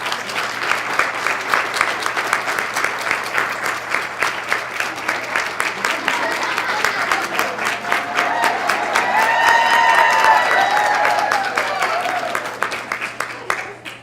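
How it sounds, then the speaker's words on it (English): A large audience applauds and cheers at a women's business showcase, steady dense clapping building to a louder swell with whoops and shouts near the middle before tapering off. "I'm hoping you'll all join me in a big round of applause for Miss Christy Carter, who made this work."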